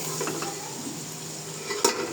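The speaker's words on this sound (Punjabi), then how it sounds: "ਮਿਰਚਾਂ ਪਿਆਜ਼ ਭੁੱਜ ਜਾਂਦੇ ਨੇ" Chillies and onions frying in a pan give a steady close sizzle with soft stirring scrapes and a sharper clink of a utensil near the end, with no talking.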